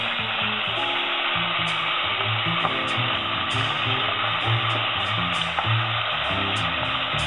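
Chunks of stewing beef sear in a hot pan for slow cooker goulash, a steady close sizzle running throughout with faint clinks and shifts underneath.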